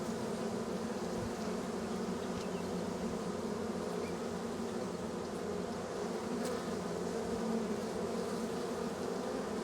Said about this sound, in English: That cage is just full of bees.